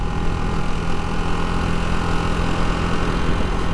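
Riding a 2025 Ducati Hypermotard 698 Mono at speed in third gear, the engine drones loudly and steadily, buried in dense, unbroken wind roar without pauses.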